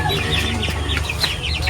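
Backyard chickens cluck and chatter close by in a steady, busy flurry of short calls, with a low background hum underneath.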